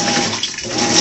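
Maytag Bravos washing machine filling its tub with water, a steady close rush of flowing water that dips briefly in the middle, no talking.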